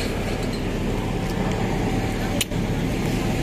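Car interior during a taxi ride through city traffic in Pasay, a steady low engine and road rumble with faint background chatter and a brief knock or bump near the end.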